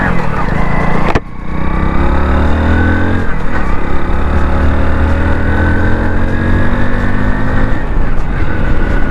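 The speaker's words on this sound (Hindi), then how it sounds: "अब हम लोग चलते हैं और करते हैं इस बाइक को राइड और देखते हैं बाइक की जो परफॉर्मेंस है वो कैसी है।" A 2023 Hero Splendor Plus BS7 motorcycle pulls away in first gear, its engine note rising in loud, close revs with pitch sweeps climbing steadily after a brief dip at the start.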